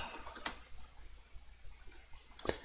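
Sparse clicking keystrokes on a keyboard, quiet and irregular, with a couple of sharper taps standing out against a low, hushed room background.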